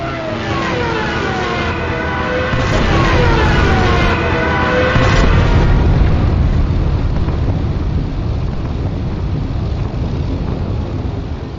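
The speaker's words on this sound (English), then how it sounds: "Picket bombers, Stukas and their terrible sirens sowed terror and devastation" Stuka dive bomber sirens wail in a wartime scene, several rising and falling tones sweeping over a dense roar of engines and rumbling explosions, loud and continuous.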